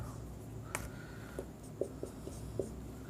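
Chalk or marker strokes on a classroom board during a physics lesson, a series of short scratchy taps and strokes at a steady pace, close and fairly clear over a low room hum.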